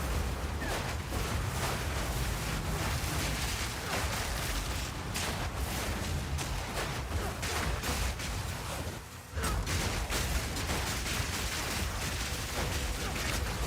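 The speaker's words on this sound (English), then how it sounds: "That was a nice explosion of twisters." Twister skills burst through crowds of monsters in the action RPG Path of Exile 2, played as an Amazon bleed build: a dense, continuous roar of booming impacts and crackling blasts, loud and sustained with a brief dip midway.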